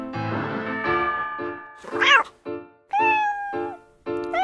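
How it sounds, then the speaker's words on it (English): A domestic cat meows several times in distinct, clear calls with short gaps between them, close and loud with no talking. "Cat."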